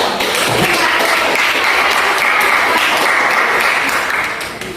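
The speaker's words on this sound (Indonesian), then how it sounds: "Tepuk tangan untuk" Sustained applause from an audience at a school classroom event, a dense steady wash of many hands clapping, loud and close, continuing throughout and tapering slightly at the end.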